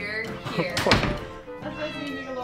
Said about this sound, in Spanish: Entramos a la puerta donde hay un montón de gatos.